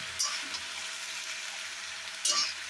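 Boiled potatoes are stirred in a frying pan as oil sizzles steadily, with a couple of brief scraping clatters from the utensil.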